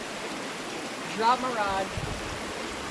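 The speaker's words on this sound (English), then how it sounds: "There's like little waterfalls everywhere." Small waterfalls tumble through a creek during an ultralight fishing outing, giving a steady, close rush of splashing water throughout, with someone briefly speaking over it.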